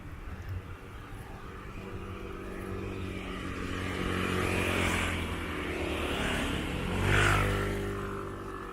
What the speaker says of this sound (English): And the bikes just fly past.